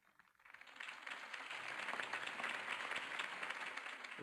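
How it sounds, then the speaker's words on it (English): Crowd applause after a political campaign speech by Harvey Dent in the Batman Telltale game, rising quickly from quiet into a sustained, even roar of clapping. "If only Mr. Wayne, my campaign's largest backer, could have heard that applause"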